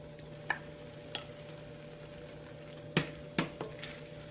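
Tomato paste added to spiced oil in a pot for a coconut fish curry fries with a faint, low sizzle, broken by several sharp spoon taps and scrapes against the pot.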